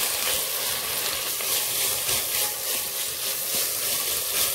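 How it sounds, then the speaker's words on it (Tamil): Shredded cabbage sautéing in a pan for pakoda, a soft, even sizzle with light pulsing stirring, fairly quiet and without talk. "கொஞ்சம் வதக்கலாம்."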